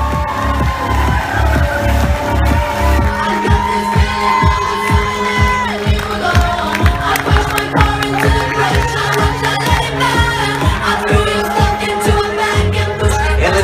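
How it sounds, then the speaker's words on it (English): At a Southern California wedding reception, guests cheer and whoop for the wedding party's entrance, a lively crowd roar partly buried under loud, thumping dance music with a steady beat. "And how about a nice round of applause for Christina Abbott and Steven Messimer."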